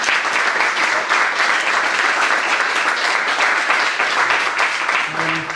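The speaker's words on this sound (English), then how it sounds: "Let's have one final round of applause for all of our inductees." Steady audience applause for music honor society inductees at an induction ceremony, a full even wash of many hands clapping throughout, with a voice starting to speak just as it ends.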